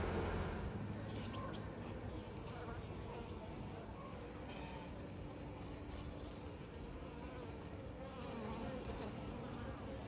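Honeybees hum and buzz steadily inside a hive while a newly developed bee chews and wriggles her way out of her sealed cell, a dense, close, continuous drone.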